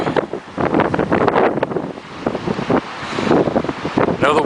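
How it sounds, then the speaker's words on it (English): Loud, strong wind roars and buffets the microphone on the Golden Gate Bridge high above the water, with gusty surges throughout. "I know the wind's probably real loud."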